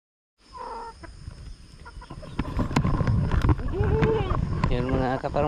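Farm chickens cluck and squawk busily at close range while being fed, a dense, continuous chatter of hens under a person talking.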